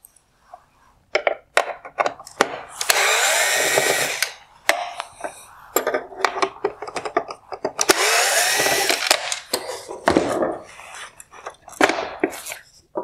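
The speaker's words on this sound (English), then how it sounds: "Next, I will remove the T20 screws holding on the lower inside projector mount." T20 screws are backed out of the projector mount in a 2015-2018 Mercedes-Benz CLS LED headlight, with two long buzzing bursts of a powered screwdriver between sharp clicks and small clattering handling noises close by.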